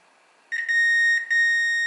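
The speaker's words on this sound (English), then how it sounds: "Let's check just with a regular continuity meter." A continuity meter on a faulty mixer's power supply gives two sharp, sustained electronic beeps close up, each with a brief stutter at its start, in a quiet room.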